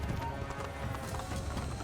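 Horse hooves clatter at a run in the video game Assassin's Creed, amid a war in a new kingdom. The fast clip-clop sits in a busy, dense game soundscape.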